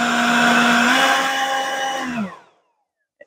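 A Ryobi 18V One+ HP jet fan blower, powered by a 4 Ah battery, runs with a loud, steady whine and airy rush for about two seconds before spinning down and falling silent, followed by a faint click.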